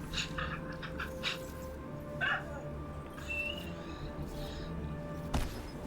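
A pet dog in the Destiny 2 video game whimpers and yips in short bursts over a constant game hum and background noise.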